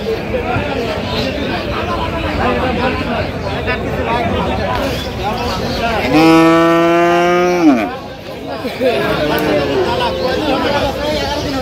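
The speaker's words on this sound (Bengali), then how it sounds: "গাভী বাছুর আমরা দেখছিলাম এখানে।" Cows and calves at a cattle market in Aftabganj, Dinajpur, with one loud, drawn-out moo of about a second and a half rising over steady crowd chatter and talk nearby.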